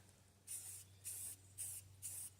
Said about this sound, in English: You might want to look underneath there and spray up.